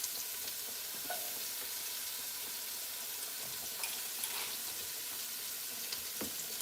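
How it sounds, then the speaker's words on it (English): Onion sautéing in a hot pan in a home kitchen gives a steady, close crackling sizzle, with occasional scrapes of stirring breaking through the continuous hiss. "Can y'all hear the sizzling?"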